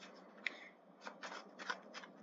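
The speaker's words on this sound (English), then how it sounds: "I've got a pack of playing cards, and I'm going to shuffle them" A pack of playing cards is shuffled close up and quietly, giving a soft riffling flutter followed by several short papery bursts in a quiet room.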